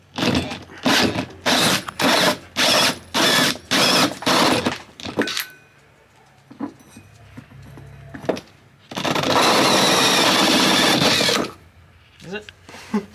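Power drill cutting a hole in a camper bumper for an LPG filler, heard as repeated short bursts of whirring, then a quiet stretch with faint voices, then one long steady burst of drilling.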